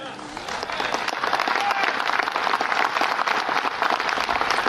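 Dense, steady applause from a large audience in a played news clip, a continuous wash of clapping that holds at an even level.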